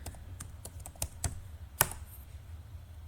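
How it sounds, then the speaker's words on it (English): Typing a command on a computer keyboard in CAD software: a quick run of light, close key clicks with one sharper keystroke near the end, over a low background hum. "So I'll type in extend."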